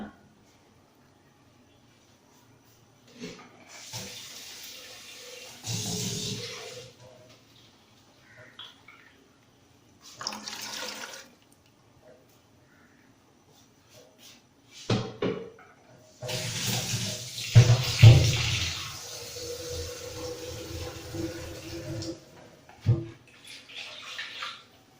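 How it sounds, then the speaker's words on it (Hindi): Water poured in a few separate bursts, splashing and gurgling into a cooking pot of besan for kadhi, with quiet pauses between pours and no talking. "इसमें थोड़ा आप पानी भी ऐड कर सकते हैं।"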